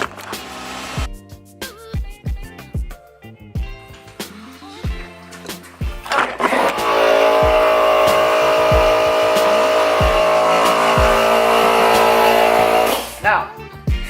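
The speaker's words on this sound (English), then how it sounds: "Cold start." A car engine cold-starts after a run of sharp clicks and knocks, then settles into a loud, steady idle that holds for several seconds before cutting off abruptly, with rain falling around the car.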